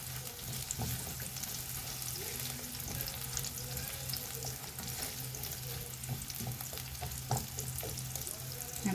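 Onion and garlic fry quietly in a pan, a soft continuous sizzle with a few scraping stirs, low and fairly distant.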